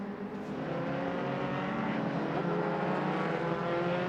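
An MRF2000 single-seater race car passes through a right-hand turn on a circuit during an MRF Challenge race, its engine a loud, steady, high-pitched drone that swells slightly as it goes by, heard alone without commentary.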